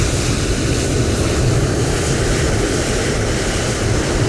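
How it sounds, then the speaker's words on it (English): An aircraft takes off near Kulule, a steady loud broadband engine roar with a constant rush, close and unbroken throughout, no voices. "You can see this aircraft is taking off."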